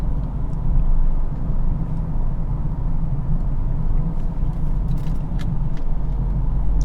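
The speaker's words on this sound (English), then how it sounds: "You can really hear the cars like whizzing by" Inside a 2022 Mercedes GLB35 AMG SUV cruising on a highway, a constant low road roar fills the cabin, with faint brief swooshes of other cars passing and a few small rattles.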